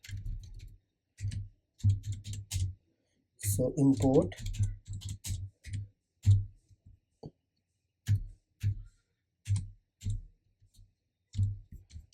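Keystrokes clatter on a computer keyboard in short bursts and separate clicks, close and clear, with someone talking in between during a coding session.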